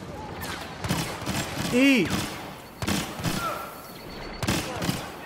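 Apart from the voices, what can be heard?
turrets shooting in video game Star Wars Battlefront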